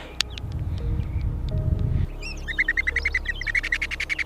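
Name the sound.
oxpecker calling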